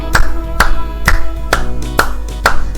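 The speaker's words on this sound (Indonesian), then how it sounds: "Tepuk tangan anak-anak, kuatkan suaranya." Children clapping hands along with a song at a Sunday school service, six sharp evenly spaced claps in a steady beat, loud and close over a constant low hum.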